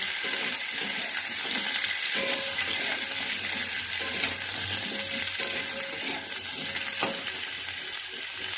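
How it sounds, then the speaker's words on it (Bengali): Drumstick vegetable stalks frying in oil with potatoes, green chilli and cumin, a continuous dense sizzle with occasional stirring scrapes and a sharp clink near the end, close up with no voices. "এবারে দিয়ে দিচ্ছি ডাঁটাগুলো, ভালো করে ভেজে নেব।"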